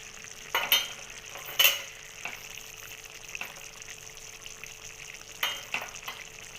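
Chicken curry simmering with masala and green chillies in a pan: a quiet bubbling sizzle broken by a few sharp spoon scrapes and stirs.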